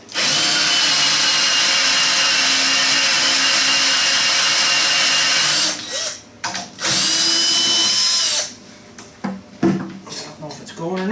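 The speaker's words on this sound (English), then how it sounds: "Might have to get my Milwaukee drill out." A Milwaukee power drill whines loudly and steadily for several seconds, stops, runs again briefly, then cuts off into scattered clatter and knocks.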